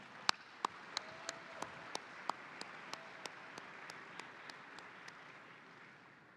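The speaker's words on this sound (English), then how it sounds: "round of applause" Applause at a police association annual banquet for platinum partners and sponsors, heard as sparse, faint claps, a handful of distinct sharp hits spaced through a quiet hall, fading toward the end.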